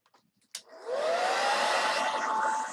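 A hair dryer blows on chalk paste spread over a chalk-transfer sign; a sharp click starts it, then a steady, close, loud whirring rush with a faint tone runs without a break to the end.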